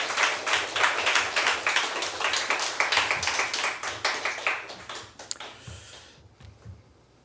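A church congregation at a Sunday morning service applauds to welcome a pastor, steady rapid clapping from many hands that gradually thins and fades out near the end, with no talk over it.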